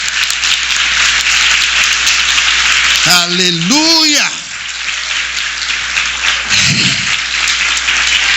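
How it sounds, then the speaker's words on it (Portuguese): Loud, steady applause from a church seminar audience fills the space throughout. A voice calls out briefly over it, and a faint murmur follows as the clapping continues. "Você pode aplaudir e glorificar o Senhor?"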